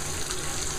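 Really hot water pouring steadily over a wooden log from a mangrove monitor's enclosure, a brief, dense gushing splash.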